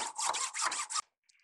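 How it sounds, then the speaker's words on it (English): A small handsaw cuts through a round wooden dowel rod in about five quick, raspy back-and-forth strokes, loud and close, stopping abruptly after a second with a faint click. "I've got a little handsaw here, and what I'm going to do is just kind of try and cut it in half as best I can."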